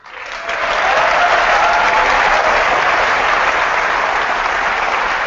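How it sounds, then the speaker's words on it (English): Sustained audience applause greets the unveiling of Apple Pay at a product launch event, a dense wash of clapping that swells quickly and holds steady at full strength. "I'm not surprised they got applause."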